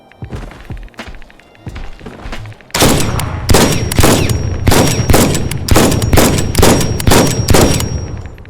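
Rapid bursts of video game gunfire in a survival shooter crack out loudly, sparse single shots at first, then a sustained stream of dense repeated firing that continues to the end.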